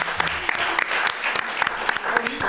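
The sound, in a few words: audience applauding the future groom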